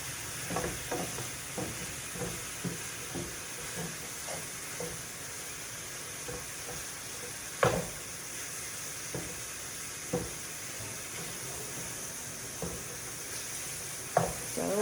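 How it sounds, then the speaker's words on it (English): Ground meat sizzles in a stainless pan while a chopping tool breaks it apart, the hiss broken by regular scraping taps and a few sharper knocks against the metal. "As the meat starts to cook down, you can see that it's getting in smaller and smaller clumps so that it's going to be completely ground."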